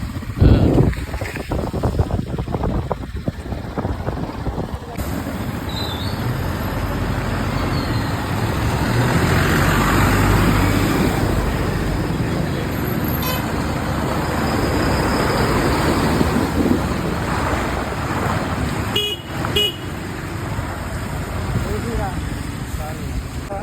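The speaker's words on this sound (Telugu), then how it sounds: "ఒక లారీ కాదు, ఇంకా ఒక లారీ వెళ్తుంది, ఇంకో లారీ ఆపోజిట్" Heavy lorries rumble past one after another, including from the opposite direction, on the badly broken main road between Rowthulapudi and Kathipudi. A continuous, fairly loud engine-and-road roar builds and fades, with voices in the background.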